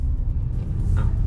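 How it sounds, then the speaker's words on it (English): A car sitting in slow road traffic on the way from Toronto to Tobermory, Ontario, giving a steady low engine and road rumble up close with a brief higher swell partway through, no voices. "stuck in traffic."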